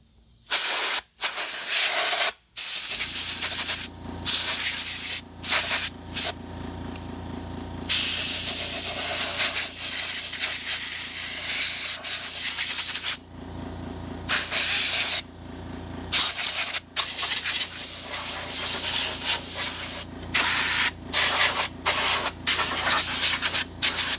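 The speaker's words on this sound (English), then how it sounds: "you always want to blow off around the air filter before you take it off" Compressed air blasts around a heavily dirt-caked engine air filter in loud, hissing bursts of varying length, separated by short pauses, close and without talk.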